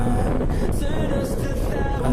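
Strong wind after Typhoon Uwan, a continuous loud rushing roar buffeting the microphone, with gusty swells and no pause.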